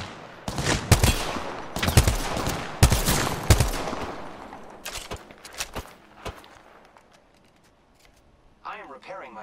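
Gunfire in Apex Legends comes as several sharp, loud bursts of rapid shots in the first few seconds, then scattered thinner cracks that fade out, ending with a brief burst of chatter.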